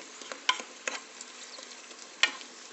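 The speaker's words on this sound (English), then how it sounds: "I'm pouring some extra oil to make things a little wetter there with the first bunch of greens that went in the pan" Greens frying in oil in a pan while cooking magiritsa, a soft continuous sizzle with a few sharp stirring clicks and scrapes, fairly quiet and close, with no talking.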